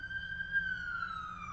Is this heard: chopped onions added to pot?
no